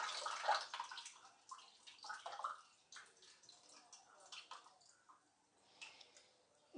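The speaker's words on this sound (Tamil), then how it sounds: "நல்ல தண்ணியை எடுத்து கீழே ஊற்றிடுங்க." Water pours and splashes off washed mutton pieces, heard as faint, close, irregular trickling and dripping with soft squishy handling sounds, no talking over it.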